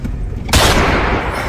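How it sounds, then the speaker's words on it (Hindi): Gunshots ring out in a night scene in India, a sharp, loud burst that cuts in abruptly and decays into a rough, noisy tail, following quieter muffled rumbling. "गाड़ी घुमा, सारे गोली चला दी।"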